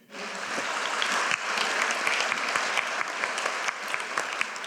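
An audience at a university State of the University address breaks into sustained applause, a dense, loud wash of clapping that holds steady throughout with no voices over it.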